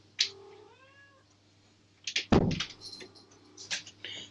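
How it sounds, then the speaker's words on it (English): A domestic cat meows in a room, a short rising-falling call early on, followed by faint thumps and rustling movement nearby. "I have a cat entering the room."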